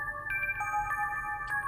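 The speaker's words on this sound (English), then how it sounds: "As soon as I got home, the phone rang." Phone ringtone in the horror video game Summer Nightmare, a steady layered electronic tone ringing continuously at moderate volume with faint background noise beneath.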